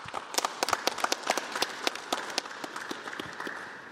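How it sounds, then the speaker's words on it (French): At a parish gathering the audience applauds a priest, Father Josaphat, with many distinct claps rattling at a fairly quick irregular rhythm. The clapping is moderately distant, thins slightly toward the end, and carries no speech. "On peut vous applaudir."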